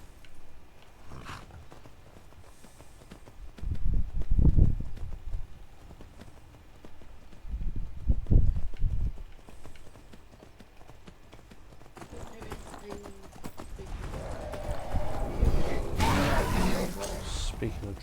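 Horse hooves clip-clop in Skyrim, arriving in a few bursts of thudding steps between quieter stretches, with a voice speaking over parts of the clip.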